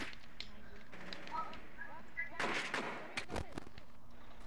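Rainbow Six Siege gunfire cracks in a quick cluster of sharp shots near the middle, with a couple of later single reports, moderately close, while players chatter over and around it.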